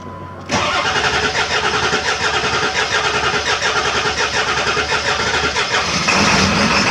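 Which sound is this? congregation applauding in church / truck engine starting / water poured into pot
truck engine starting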